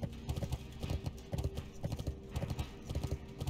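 Horse hooves clip-clop steadily in World of Warcraft Classic, a quick, continuous rhythmic trotting, close and prominent throughout with no talking.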